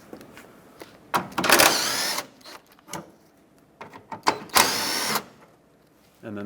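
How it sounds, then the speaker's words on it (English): Ratcheting and metallic working noises from a 10mm socket wrench loosening two bolts holding a transmission oil cooler on a Chevrolet Express 3500 van, coming in two loud bursts separated by quieter clicks and handling sounds. "Get a 10mm socket, remove both of those bolts."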